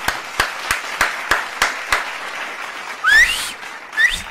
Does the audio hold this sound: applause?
yes